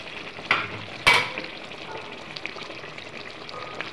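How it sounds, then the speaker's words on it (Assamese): Broiler chicken and pumpkin curry is stirred in a cooking pot: two sharp utensil clatters against the pot ring out early, followed by a soft steady sizzle with faint scraping ticks. "এতিয়া আকৌ ধুনীয়াকৈ লৰাই লওঁ।"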